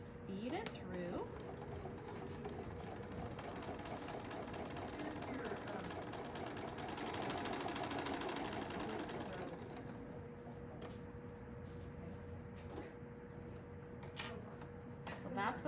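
A sewing machine stitches a quilt block seam, running steadily with a fast mechanical chatter that fades into quieter handling noises. Someone talks throughout.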